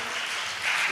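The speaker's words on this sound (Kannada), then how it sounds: "ನಮ್ಮ ಮಕ್ಕಳ ಚಪ್ಪಾಳೆ ಹೇಳ್ತದೆ" Children clap together at a large job fair in Udupi, a short burst of dense applause at moderate distance.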